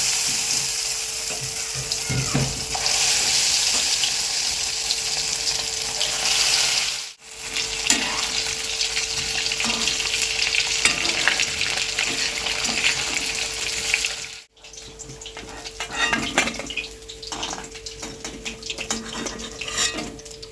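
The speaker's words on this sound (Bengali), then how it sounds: "তেলটা গরম হয়ে গেছে, এবারে এক পিস এক পিস করে মাছ ছেড়ে দেবো" Fish pieces drop one by one into hot oil in a kadai, producing a loud, continuous hiss with bubbly, watery crackle that runs for about twenty seconds, broken by two brief dips.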